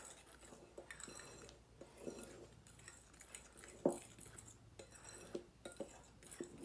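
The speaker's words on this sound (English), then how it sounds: "And with a fork, just stir that all up." A fork stirs baking soda and dry ingredients in a bowl for carrot cake, making faint, scattered clinks and scrapes against the dish, with quiet room tone between.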